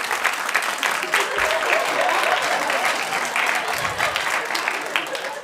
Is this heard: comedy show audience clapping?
yes